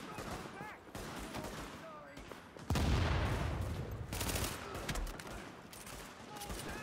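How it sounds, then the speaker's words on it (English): Machine gun fire in The Division during a precinct siege, with a heavy burst near the middle and scattered shots around it over a constant background of combat ambience. "Just gotta burst fire this machine gun"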